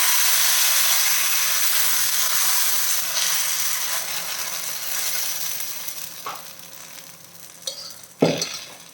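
Peanut dosa batter hits an oiled hot griddle with a loud, broad sizzle that gradually fades, followed by a few sharp scraping clicks and a knock near the end.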